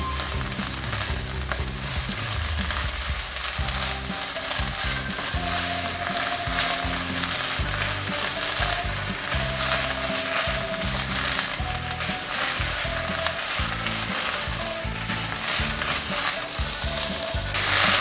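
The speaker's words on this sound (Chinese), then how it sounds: "现在放入酸菜， 把酸菜炒香" Pickled mustard greens (suancai) stir-fry in a wok after ginger, a loud continuous sizzle with repeated scraping tosses of the spatula and no talk.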